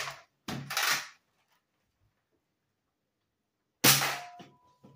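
An X-Shot Pro Longshot toy blaster fires a Diamond dart, giving sharp, close mechanical clacks and snaps in two short bursts separated by a long silence.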